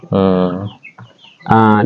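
Chickens on a poultry farm cluck loudly and close by in two drawn-out, throaty calls separated by a short pause.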